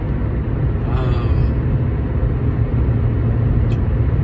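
Inside a car on a long road trip, a steady low engine and road rumble drones continuously at close range, with a brief faint chirp over the top.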